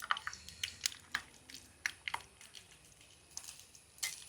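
Ghee heated in a pan for unniyappam sputters from a trace of water: faint, irregular little pops and ticks spaced through a quiet background, a couple of closer bursts standing out.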